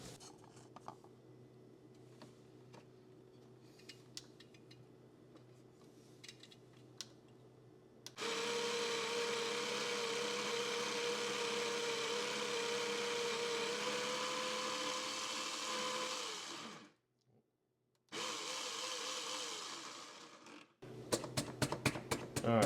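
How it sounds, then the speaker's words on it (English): A burr coffee grinder grinds Costa Rican coffee beans for a Breville Bambino Plus espresso machine, a loud steady whirring that runs about eight seconds, stops briefly, then resumes before a short rattling tap at the end, after quiet clicking. "I'm going to move you guys closer to the grinder, and let's get this grinded up."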